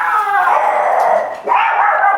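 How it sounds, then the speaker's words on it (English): Dogs howl loudly and continuously up close, with rising and falling wails and no talking. "if my dogs are barking, that's what's up"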